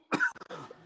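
A single harsh cough followed by a short throat-clearing rasp, close to the listener.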